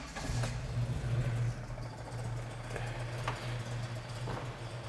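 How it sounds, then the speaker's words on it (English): A classic car engine idles while still cold, a low steady rumble with faint ticking, close and fairly quiet. "So it's cold. These cars like to run better when they're hot. So it's idling as it should."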